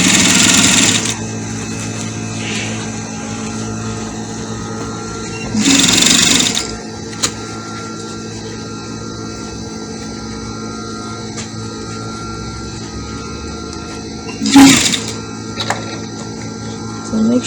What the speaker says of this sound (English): So you make sure you place it on the machine.